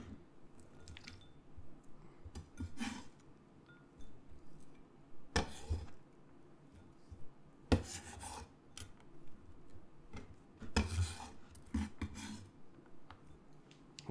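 A knife cuts through onions for a sauce, giving soft, close, irregular crisp slicing bursts over a quiet background, with no talking.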